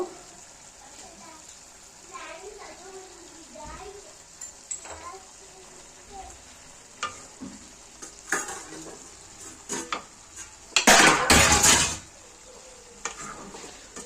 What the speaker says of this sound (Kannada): ಚಿಕನಲ್ಲಿರೋ ನೀರೆಲ್ಲನೂ ಹೋಗೋ ಥರ ಹುರ್ಕೊಂಡು